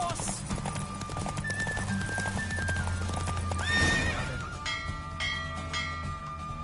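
Rhythmic hoofbeats of a galloping horse racing in The Witcher 3: Wild Hunt, with a whinny, layered over music and a speaking voice, loud and close.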